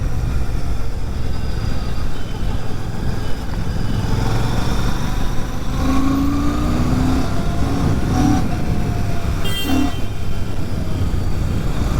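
Royal Enfield Classic 650 motorcycle engine running steadily and loud throughout, a continuous low rumble with a few brief rising tones and passing whines layered on top, no talking.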